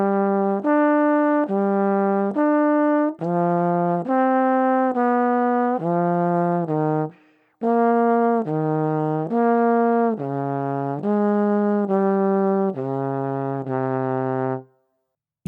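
A melodic jazz line of sustained single notes walking through the thirds and sevenths of the chord changes, steady and evenly phrased, one brief gap midway, alone without talk.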